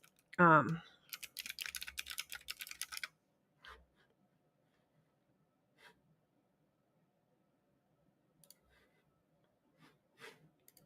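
Fingers typing a quick search on a computer keyboard, a short burst of rapid clicks near the microphone after a brief voice, then scattered faint taps in a quiet room.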